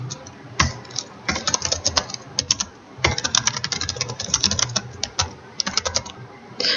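Fingers tapping on a computer keyboard in bursts of quick, sharp key clicks with short pauses between, close and fairly quiet.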